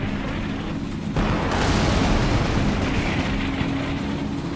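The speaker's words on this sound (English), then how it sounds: "There's heavy fire coming down on the Germans" Artillery fire pounding German positions in the wartime strategy game Combat Mission Rome to Victory: a dense, continuous rumble of distant explosions and booms, loud and unbroken, with no talk over it.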